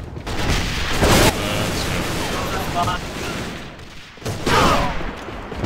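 Grenade explosions in a first-person shooter match, two heavy bursts with rumbling tails over constant gunfire and game noise, with players talking over it.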